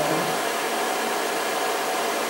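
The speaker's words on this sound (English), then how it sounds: "you can hear that the spindle has started up" Spindle of a Denford Orac CNC lathe running, a steady broadband whirring hiss close up, constant in level with no other sounds.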